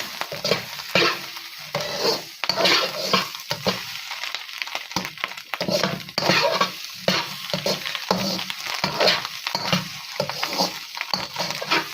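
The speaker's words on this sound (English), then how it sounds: "I'm going to add our spring onion with the whites and a bit of green, because they need to cook just a fraction bit" Spring onion whites and greens sizzle loudly in a hot pan for fried rice while being stirred and tossed, producing uneven bursts of crackling and scraping that rise and fall throughout.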